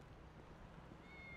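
A cat gives a short, faint meow, a thin rising tone near the end of a brief, quiet stretch over low background rumble.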